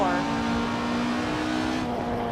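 Rally car racing through turns in the video game Assetto Corsa, a steady loud engine drone with a strong tonal whine and faint tyre noise, continuous throughout with no voice over it.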